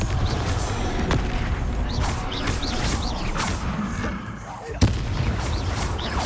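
Repeated Confringo fire spell blasts in a Harry Potter wizardry game, booming impacts and crackles amid spell casting, one sharp loud burst standing out near the end, with voices in the background.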